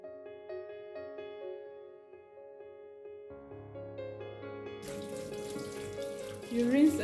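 Tap water runs while omena sardines are rinsed in a Kenyan kitchen, a steady splashing rush that starts a few seconds in over sustained tonal sounds and grows louder toward the end.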